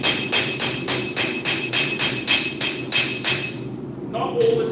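Hand hammer striking steel in a fabrication shop, a steady series of about ten loud, ringing metallic blows in an even rhythm, close up, ending with a quieter clink.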